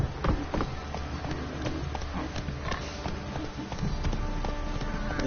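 Roach the horse galloping in The Witcher 3, a quick steady run of hoofbeats clopping over the ground with rattling tack, close and continuous under a low ambient bed.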